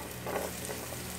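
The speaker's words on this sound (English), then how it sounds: "and our onions. Man, I love that sizzle." Onions sizzling in olive oil in a pan for a meatball sauce, a steady close frying hiss with a brief swell of crackle partway through, heard alone.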